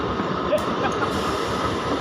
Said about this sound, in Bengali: ট্রেন চলে এসছে দেখুন, হাসনাবাদ লোকাল।